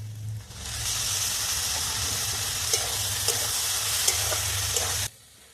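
Loud, steady sizzle of ginger-garlic paste frying in hot oil with fried onions, with a few sharp spatters and pops, ending suddenly.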